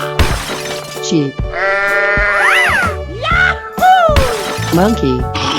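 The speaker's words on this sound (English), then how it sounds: "Sheep." Sheep bleat loudly in a 3D animal slide video game, several wavering, cartoonish bleats mixed with bright game sounds and playful voices.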